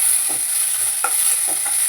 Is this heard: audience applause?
no